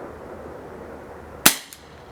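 An ASG Dan Wesson CO2 BB revolver fired in single action, a single sharp, loud crack with a brief metallic echo over a steady low background hiss.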